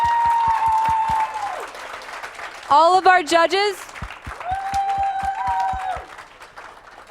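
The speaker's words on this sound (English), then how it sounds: "let's give a round of applause to all the people who competed today" Applause rises at a school poetry slam to honour the day's competitors. Rhythmic claps are heard while a presenter speaks over them, with a brief burst of louder crowd noise in the middle.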